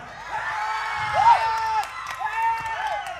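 Clapping and cheering from a crowd at a Balinese baleganjur gamelan competition, with children shouting and whooping over the applause. It swells and dips across the few seconds.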